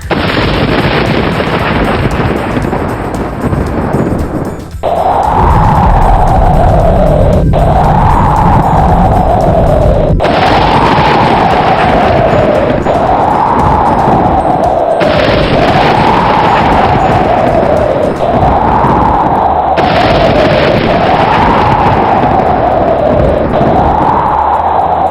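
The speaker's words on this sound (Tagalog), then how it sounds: "Grabe ang lakas ng hangin at dami ng ulan ang dala ng bagyong si Typhoon Kulba." A typhoon storm sound effect with heavy rain and strong wind roaring loudly and continuously, broken by repeated deep thunder-like booms every few seconds.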